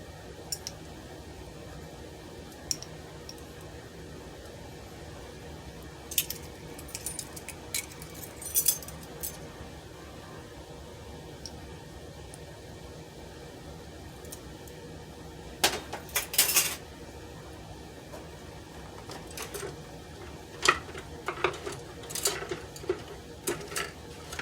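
Bread dough ingredients and yeast are stirred in a bowl, giving soft steady scraping under intermittent clinks and knocks of a utensil against the bowl, with clusters of sharper taps around the middle and toward the end.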